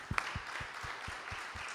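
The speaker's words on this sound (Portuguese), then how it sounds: "Vamos aplaudir o Senhor." Church congregation clapping, a steady rhythmic beat of claps at a moderate distance, fairly faint.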